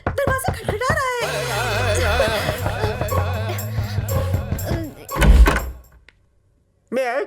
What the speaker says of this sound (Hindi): नहीं, देखो तो कोई तो है, दरवाजा खटखटा रहा है।